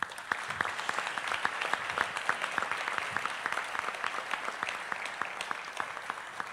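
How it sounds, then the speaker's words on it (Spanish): An audience at a municipal ceremony in Colima claps for local officials, steady, sustained applause with crisp individual claps standing out, holding at an even level for over six seconds. "Un aplauso para ellas."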